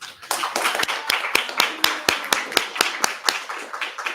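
At a Govardhan Puja festival gathering, an audience welcomes a presenter with clapping that falls into a steady rhythmic beat: sharp, distinct claps repeat about every quarter second, fairly close and loud, with no talk over them.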